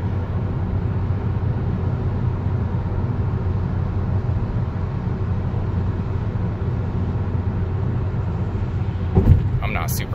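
A 2018 Volkswagen Jetta TSI cruising on the freeway, heard from inside as a steady low road-and-engine drone with tyre rumble, broken near the end by a brief bump.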